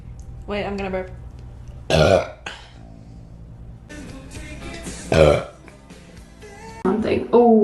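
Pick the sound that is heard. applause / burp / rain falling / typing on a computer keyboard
burp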